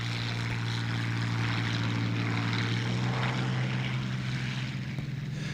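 A Hawker Hurricane IV with a Merlin engine operating from a temporary strip in Calcutta: a steady, loud propeller drone with a deep engine hum, holding even and unbroken throughout with no voices.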